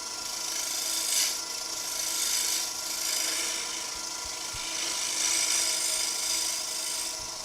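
A woodturning tool cuts a spinning wood blank on a lathe, taking off excess to square the face; a steady, hissing shear runs throughout with slight swells in intensity, close and alone without speech.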